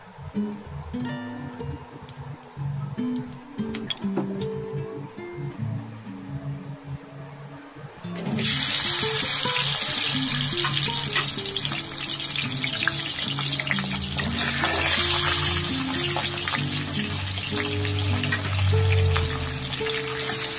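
Pieces of cut carp coated in salt and turmeric fry in hot oil in a kadai. After some quieter clatter, a loud, steady, close sizzle crackles on continuously.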